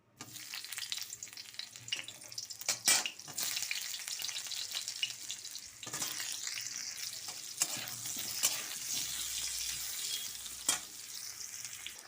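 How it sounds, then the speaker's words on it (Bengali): Potatoes fry in hot mustard oil for a jackfruit curry, giving a steady, close sizzle with occasional stirring scrapes and a few louder clatters throughout. "আলুগুলোকে ভেজে নেব।"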